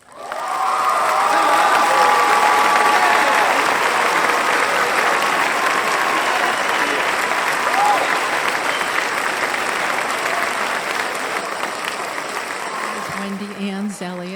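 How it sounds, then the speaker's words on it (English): Sustained audience applause for a speaker taking the stage, a dense steady roar of clapping from a large crowd that runs at full strength for most of the stretch before easing, with a voice coming in at the very end. "a warm and enthusiastic round of applause for our next speaker, author and channel,"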